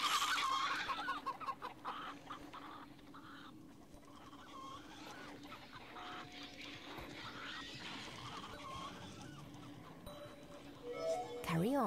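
Chickens cluck and squawk repeatedly in the audio game Papa Sangre, over a steady game background drone, with a brief rising electronic tone near the end.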